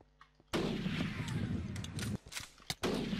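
Rapid gunfire from a JTAG M200 rifle in the Minecraft MiniZ zombie mod, a dense burst of loud shots filling most of the moment, followed by a few separate sharp reports.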